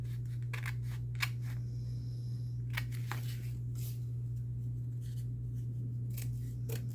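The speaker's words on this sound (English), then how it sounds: "I am just going to cut some of this off so that there's not so much bulk." Scissors snipping through bulky craft material made from a silverware bag, a series of close, crisp cuts spaced irregularly over a steady low electrical hum, with no talking.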